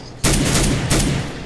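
A flashbang grenade going off in CS:GO: two sudden, loud bangs about two-thirds of a second apart, each with a bright, noisy burst and a short ringing decay.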